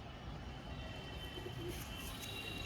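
A male Chiniya pigeon gives low, soft coos close by, against a quiet steady background hum.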